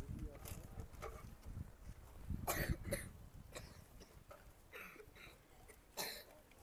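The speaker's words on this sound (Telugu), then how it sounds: "ఏంటి కొంచెం దగ్గుతూ ఉన్నారే" Several people cough and clear their throats in a room during a Food Commission chairman's inspection in Annamayya District, with brief scattered coughs over quiet background murmur.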